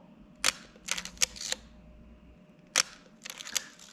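A Leica M-A film rangefinder camera's mechanical shutter fires repeatedly, giving crisp, close, quiet clicks with faint winding and handling noises between them in a calm room.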